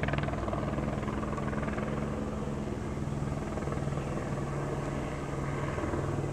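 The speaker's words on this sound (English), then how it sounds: "Ah, this one's even closer than the other one was." A helicopter flies close overhead, its rotor making a steady, loud chopping drone with a low rhythmic thump that holds without letup, and no voices are heard.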